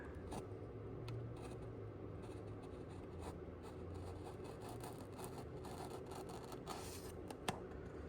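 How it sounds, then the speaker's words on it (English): A steady scratchy rasp of a blade cutting through paper, with faint crackles and a small snap near the end, no voices. "I literally just skinned the paper with this edge."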